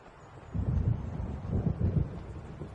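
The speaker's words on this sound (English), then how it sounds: "It seems there's a storm coming." Low rumbling thunder of an approaching storm in the video game Alan Wake, a deep steady roll that swells in two broad surges over a windy background, with no other sounds.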